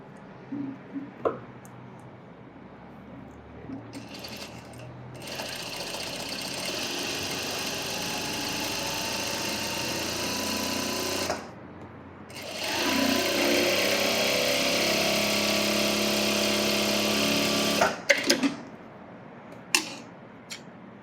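A sewing machine stitches a folded hem on a blouse, running in two long sustained bursts of steady motor hum. Short pauses and faint handling clicks fall between the runs, and no voice is heard.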